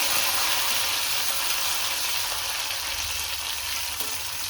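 Green chilies and curry leaves sizzle in a frying pan of oil with garlic for palak pappu, a loud, dense, steady hiss close by with no breaks.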